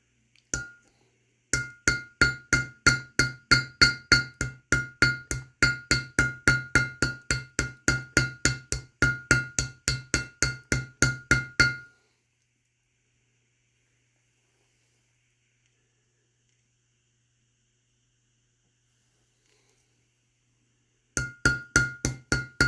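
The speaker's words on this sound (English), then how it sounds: "I want to at least try to get one side peened." Steady metallic hammer blows peen one side of a metal workpiece, a long run of even, ringing strikes that stops abruptly, then resumes briefly after a silent gap.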